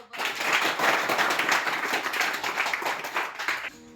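A class gives a round of applause after a closing prayer in a remote Papua classroom, steady dense clapping from a group for several seconds before it stops abruptly.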